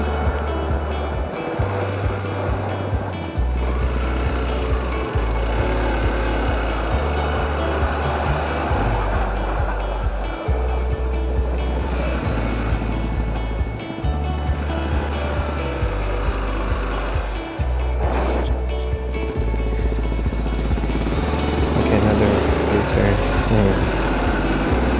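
Two-wheeler motorbikes ride fast along a road, heard as steady engine drone and road and wind rumble from a moving rider over about 25 seconds, with talk in parts.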